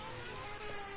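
A racing car in a Formula game at Laguna Seca drones past the finish line, a steady, fairly loud engine tone that holds through the brief moment.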